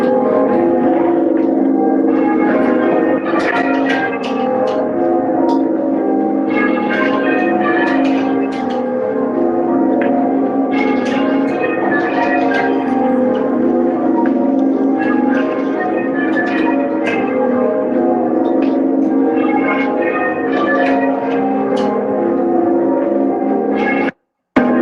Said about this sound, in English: here we go for the bells